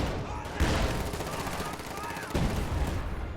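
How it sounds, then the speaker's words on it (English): Company of Heroes 2 battle: dense rattling gunfire with heavier artillery bursts, continuous and loud, with two sharp surges near the start and end. Faint voices may sit underneath. "I'm going to start shooting back at this guy."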